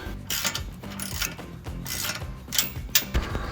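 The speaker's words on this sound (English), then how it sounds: "your ratchet, 15mm socket. Get it nice and snug." A ratchet with a 15mm socket tightens an exhaust bolt on a Ford F-150 Flowmaster FlowFX single exhaust install, giving a run of close, quick mechanical clicks in short bursts over a busy background.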